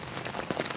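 Light rain patters steadily on surfaces outdoors during a warm walk, a brief, even hiss of close drops with no voices.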